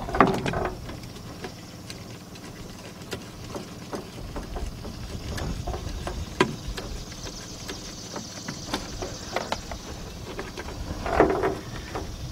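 Ratchet wrench with a socket loosening a bolt on a plastic part of a 2002 Mercury Sable, giving a series of sharp clicks and clunks spread through the clip over a quiet background.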